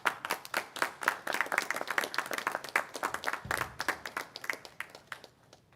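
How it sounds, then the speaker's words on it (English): Graduates at a 2021 graduation ceremony burst into sustained applause for their families, dense clapping from many hands, steady and fairly close, thinning toward the end, with no talk over it. "express thanks for the support you've received over the years by acclamation, applause, cheers, or however you like."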